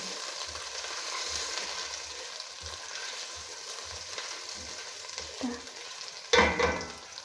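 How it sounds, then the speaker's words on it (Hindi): Food fries in a pan until light brown for a Chinese-style chicken Manchurian recipe, with a steady sizzle, soft rhythmic stirring thumps and a louder burst of scraping near the end. "अच्छी तरह से फ्राई कर लेना। इसको हमने लाइट ब्राउन करना है"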